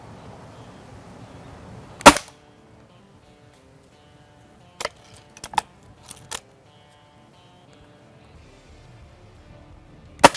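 Air rifle firing pellets at squirrels in a garden: sharp, sudden cracks, one near 2 s, a cluster of three or four quick snaps around 5–6.5 s and a final one at the end, each standing out against quiet outdoor background.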